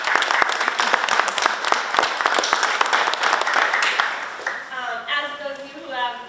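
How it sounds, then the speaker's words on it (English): An audience applauds at a school committee meeting, a dense patter of many hands that holds steady and then thins out toward the end as voices begin talking over it. "I think they deserve a round of applause."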